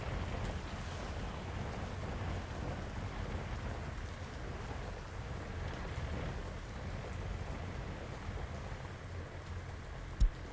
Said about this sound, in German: Und dieser Regen im Hintergrund.